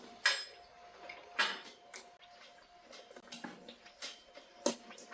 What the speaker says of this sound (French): Vous allez ensuite ajouter un tiers de tasse de lait. Et vous allez mélanger tout ça.